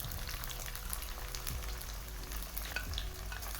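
Chicken karahi frying in a pan, with a steady close sizzle, crackling bursts and faint stirring, and no voices over it.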